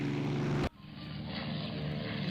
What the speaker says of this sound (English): And more of our aircraft are arriving.